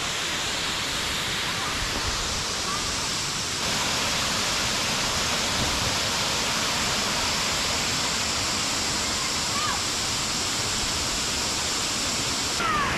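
Lugnason Falls, a waterfall on Siquijor Island in the Philippines, pouring in a loud, unbroken roar of rushing water that fills the whole stretch at an even level.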